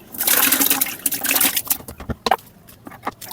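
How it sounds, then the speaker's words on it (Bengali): Aloe vera pieces poured into jaggery water, a close wet splashing rush at first that trails off into scattered drips, knocks and small liquid sounds. "এই যে এভাবে অ্যালোভেরাগুলো ঢেলে দিলাম"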